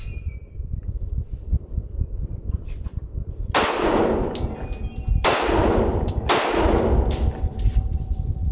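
A PSA Dagger pistol fires three sharp shots at the range, loud and close, spaced a second or two apart with ringing metallic echoes, following a quieter stretch of low rumble.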